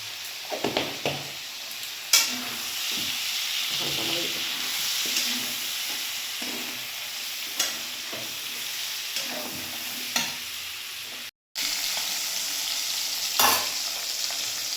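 Small fish fry in a pan with a continuous loud sizzle, broken by frequent scraping and clicking from stirring and turning, plus one brief gap near the end.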